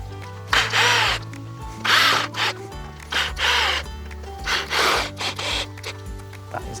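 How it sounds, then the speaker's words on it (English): A power drill drives screws into a hook and band hinge on a domestic gate, whining in short, rising bursts over a low motor hum, with brief pauses between runs. "we can let the drill do the rest of the work"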